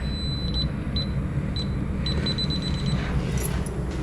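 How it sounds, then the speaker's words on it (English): Faint high electronic beeps from an alarm sound in short bursts, some in quick runs, over a steady low outdoor rumble on a bike commute to work. "The alarm."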